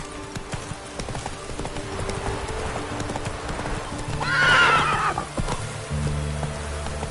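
Horse hooves clip-clop at a gallop across the ground in The Witcher 3, steady and close under soft rain, with a short whinny rising partway through.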